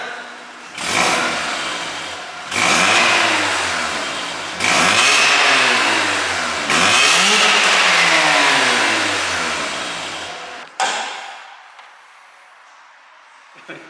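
A Mazda RX-8 rotary engine revving hard while driving, four rising pulls through the gears, loud and close, ending in an abrupt drop to quiet.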